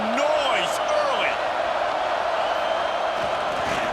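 A dense, steady roar from a stadium crowd in a football video game fills the background continuously, with a commentator talking over it.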